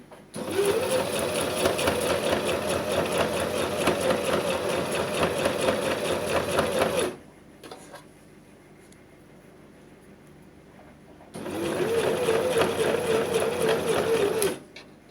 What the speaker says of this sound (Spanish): Hacemos un remate y cosemos a 1 centímetro del borde.